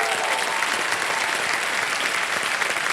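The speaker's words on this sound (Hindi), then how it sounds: "ताली बज जाए इनके लिए" A studio audience at a televised quiz show bursts into dense, sustained applause, loud and even throughout with no pauses.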